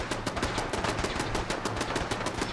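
Rapid bursts of laser weapon gunfire in Fallout 4 Far Harbor, a steady stream of sharp repeated shots at even rhythm, fairly loud and continuous with no talking.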